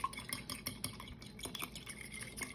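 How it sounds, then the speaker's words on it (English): Eggs are whisked in a bowl, a quiet, rapid, continuous rhythmic clatter of the whisk scraping and clinking against the sides, with no voices. "I'm just gonna whip that or whisk that almost like you're scrambling an egg so that the whites and the yolk are combined"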